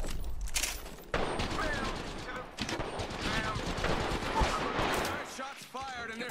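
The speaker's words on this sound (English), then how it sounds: "Shots fired, and there's firing." Gunfire in a battle royale video game: rapid bursts and volleys of shots fire repeatedly throughout, fairly loud and continuous, with a player talking over the action.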